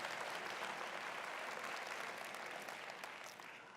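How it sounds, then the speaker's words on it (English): Audience applause at a business talk, a continuous wash of clapping that holds steady, then thins and fades slightly at the end, heard at a low level. "Also, give yourselves a round of applause"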